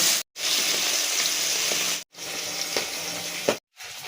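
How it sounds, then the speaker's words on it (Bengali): Katla fish fries in hot oil with a loud, close, steady sizzle, cut by three short silent breaks. "এইভাবে আমি মাছগুলো ভেজে তুলে নেব"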